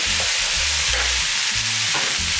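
Chicken teriyaki fries with udon noodles in a pan over high heat, a loud, steady close sizzle broken by the scrape and clatter of stirring, with no voices.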